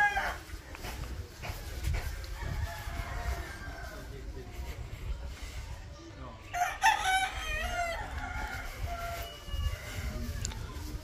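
Several fighting roosters crow repeatedly in Port Barton, Philippines, some near and some farther off, over a low rumbling background with faint clucking.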